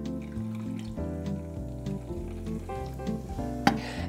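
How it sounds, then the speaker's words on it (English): Soda water is poured over a grapefruit spritzer and fizzes with a soft, crackling bubbling that lasts throughout, beneath background music. "we're gonna top it with some soda water. Keep it nice and bubbly."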